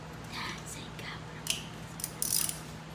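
A ratchet wrench clicks while tightening the transmission drain plug on a 2019 Cobra CX50 SR motorcycle, giving a few short close mechanical ratcheting bursts over a quiet workshop background.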